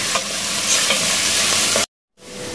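Onion, ginger and curry leaves sizzle and hiss in a hot pan for a cutlet-style filling, with scraping stir strokes over loud steady frying, then a brief silent gap before the sizzle returns.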